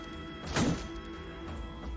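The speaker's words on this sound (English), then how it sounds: "The dull thunk and thud of sharpened claws and antlers clashing against the Raiders' reinforced shields." Sharpened claws and antlers clash against reinforced shields in the Battle Brothers video game, producing a single dull thud over a low, steady background.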